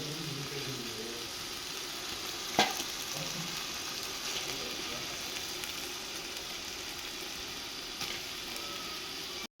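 Mutton pieces fry and sizzle in masala for Srinagar donne biryani, a steady dense crackle with occasional stirring clatter and a sharp spoon knock near the start, no talking.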